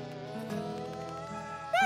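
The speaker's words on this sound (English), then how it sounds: "Oh, the bees are back." A cartoonish buzzing drone of bees with musical tones underneath, ending in a brief rising whine; steady and fairly soft, no voices.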